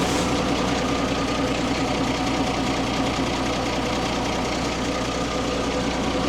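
A campervan engine idles steadily just after starting, a continuous close low chugging rumble with a knocking throb and no talk over it.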